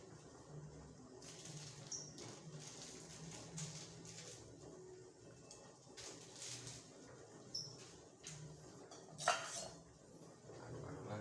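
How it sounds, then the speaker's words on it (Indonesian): A spoon scrapes and clinks faintly against a pot while sayur asem is stirred, with soft irregular taps and rustles close by and no talking. "Aduk-aduk lagi."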